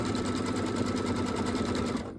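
An embroidery machine stitches a quilt block line rapidly with a steady mechanical whirring and fast rhythmic ticking, fairly quiet and close, stopping abruptly at the end.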